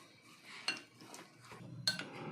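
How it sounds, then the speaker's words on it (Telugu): Egg whites with a spoonful of salt are mixed in a bowl, giving a few quiet scrapes and two sharper clinks of utensil against the bowl. "ఈ వైట్ గుడ్డులో మొత్తం ఇలాగా దీన్ని మెత్తగా కలుపుకుందాం"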